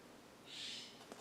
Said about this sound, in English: Every time I hit record, the birds outside are really loud.